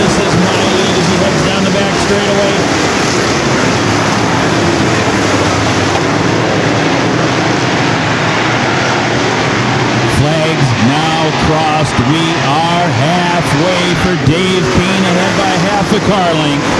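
Modified race cars roaring down the back straightaway at a speedway during the Harvest Cup feature, a loud continuous engine drone with pitch sweeps as cars pass, under a race announcer's talk.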